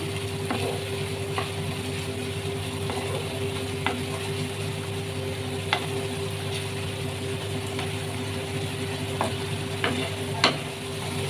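Mutton keema with peas and coriander is stir-fried in a pan. A steady, close sizzle runs throughout, broken by intermittent sharp scrapes and clicks from the spatula.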